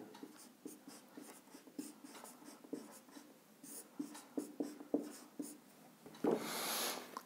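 Handwriting a geometry proof by pen on paper, a quiet close run of short scratchy strokes and taps in an uneven rhythm, ending with a brief louder rustle.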